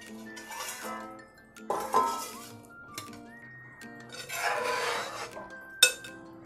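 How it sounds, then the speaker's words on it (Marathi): A metal lid comes off a pot of eel fish curry on a gas stove, giving several bright clinks and ringing taps with a short scraping rub, close and fairly quiet. "आज झाकण काढून बघते।"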